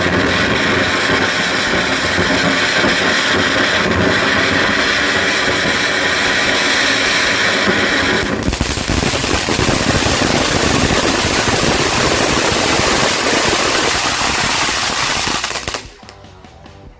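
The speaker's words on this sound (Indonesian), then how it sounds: "keren sekali ya air mancur konik jumbonya" A jumbo cone fountain firework burning loud and close, a continuous roaring hiss with crackling spray that holds steady for about sixteen seconds before cutting off abruptly.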